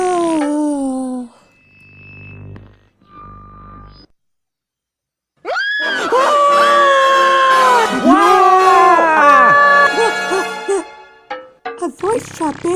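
A trumpet-like melodic voice call from the Teletubbies children's show, loud bending tonal phrases that follow brief talk and a short quiet gap, with a voice seeming to imitate a trumpet.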